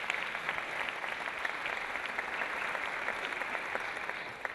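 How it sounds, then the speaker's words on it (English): A church lecture audience at Olivet Institutional Baptist Church gives itself a steady, even round of applause, a dense wash of clapping heard from a moderate distance. "Let's give ourselves a round of applause"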